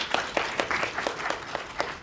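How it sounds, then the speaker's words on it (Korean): Audience at a startup demo day in Busan claps briefly to welcome a company founder to the stage, a steady patter of separate hand claps with scattered sharper peaks, no talk over it. "여러분 다시 한번 큰 박수 부탁드리겠습니다"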